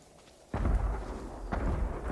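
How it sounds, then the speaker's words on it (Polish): Fireworks bursting in the video game Ghost of Tsushima, two deep booming explosions about a second apart with rumbling tails, fairly loud and without talk. "Kolejne fajerwerki! Ze wszystkich stron!"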